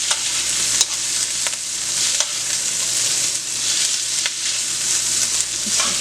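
Garlic and onions sauté in a pan for shrimp vegetable rice, giving a bright, steady sizzle punctuated by a few stirring taps, with no talking.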